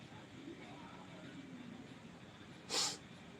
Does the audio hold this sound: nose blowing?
yes